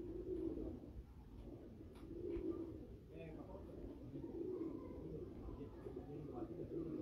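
A light-weight pigeon on a rooftop gives soft, repeated coos in several low bursts spaced a few seconds apart, faint against quiet background hiss.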